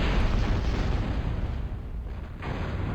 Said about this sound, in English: this Juggernaut is finally in range, and of course all of its shots are massive AoE explosions